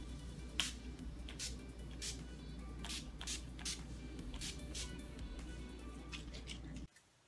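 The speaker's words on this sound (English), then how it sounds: "I'm just going to be spraying the NYX matte finishing spray, and I'm just gonna shake this" A can of NYX matte finishing spray is shaken and sprayed in a series of short, sharp hissing bursts, irregularly spaced and fairly close, over a low steady background hum, then stops abruptly.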